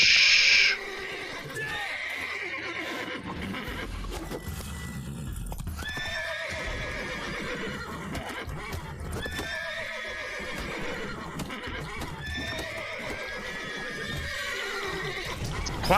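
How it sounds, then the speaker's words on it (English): Horses in a stable in The Witcher 3 video game whinny and neigh repeatedly, with clip-clop hoof steps throughout, close and steady, with no talking. "Quiet, horses. Don't kick me."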